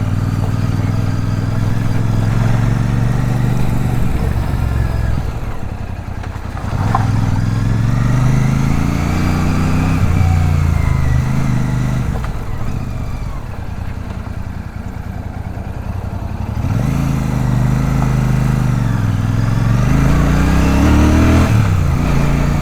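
A Royal Enfield Super Meteor 650 motorcycle engine runs loudly and close, its revs repeatedly swelling and dropping with a deep, rumbling exhaust note and no talking.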